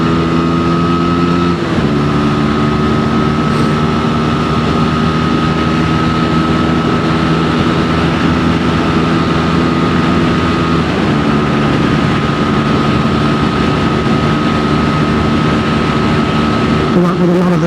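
A liquid-cooled, six-speed Euro 5 Sinnis SM-XE motorcycle engine drones steadily on the road, with pitch shifts at apparent gear changes. Loud and close throughout, with wind noise and a rider talking over it.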